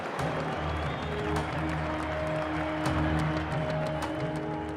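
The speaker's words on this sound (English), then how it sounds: "Each country cheering for its flag." A large crowd of pilgrims at a Lourdes gathering in a hall holding 25,000 people cheers and applauds steadily, with a dense roar of voices and claps, and sustained tones sounding beneath.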